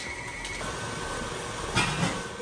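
A stand mixer runs at high speed with its bowl not locked, giving a steady loud whirring drone with rattling bumps near the end, close up and without talk.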